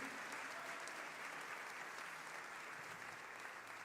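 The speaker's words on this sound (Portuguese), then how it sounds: "Se for para Jesus, aplaude e glorifica o nome dele" Congregation at a church service applauding steadily, a dense wash of many hands clapping together that holds fairly evenly throughout with no speech over it.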